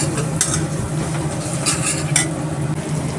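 A spice paste of ground chilli, garlic and ginger fries in a pan while it is stirred, giving a steady close sizzle with scraping utensil clinks against the metal. No one talks.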